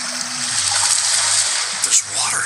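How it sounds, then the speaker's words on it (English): River water running through an old subway tunnel in the audio game Blindscape: a continuous rushing, gushing flow with splashy texture, close and fairly loud for the whole brief moment. "This old subway tunnel seems to have a river running down it."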